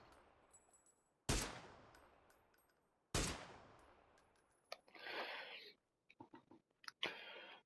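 Two loud, sharp gunshots about two seconds apart ring out in the PUBG training range, each trailing into a long echoing decay, followed by a burst of hissy noise and scattered quick clicks.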